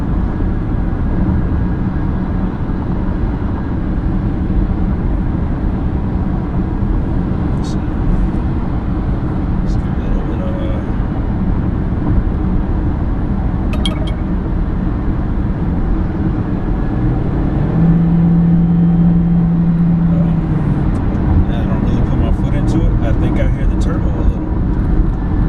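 A 2019 Volkswagen Jetta cruising at highway speed, around 80 mph, fills the cabin with a loud, constant low drone of road and engine noise that stays steady throughout.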